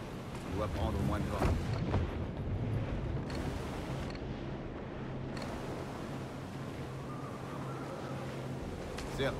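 Wind and sea waves aboard a sailing ship in the Assassin's Creed IV video game, a steady loud rush of gusting wind and surf that swells in bursts, with game voices talking over it.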